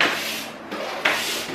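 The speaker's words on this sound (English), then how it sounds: "it's just the guys closing the door." A door being closed nearby, heard as two or three abrupt knocks and thuds against a steady broadband hiss of background noise.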